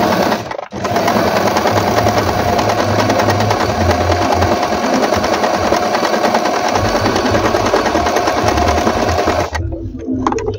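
A Stitchmaster table-top sewing machine runs in a fast, steady mechanical whir of stitching for about nine seconds, close and loud, starting abruptly and cutting off at the end.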